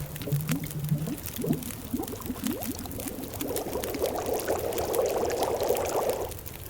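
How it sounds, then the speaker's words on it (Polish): Water heats and boils in the survival video game The Long Dark, a steady bubbling and pouring hiss that builds and fills the sound alone, with no talk. "zagotujemy wodę"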